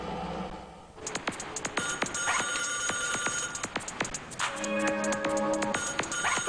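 A telephone bell rings in repeated rapid trills, loud and close, with a faint hum underneath and no talking.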